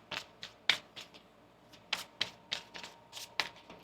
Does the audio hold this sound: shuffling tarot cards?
yes